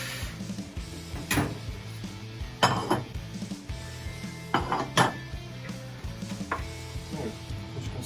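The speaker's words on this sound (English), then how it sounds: "So I'm going to get my bowls out of the oven, which are nicely warm." Warm ceramic bowls lifted out of a home oven and set down in a kitchen, a series of sharp clinks and knocks spaced a second or two apart over a low steady hum, close and fairly clear with no talking.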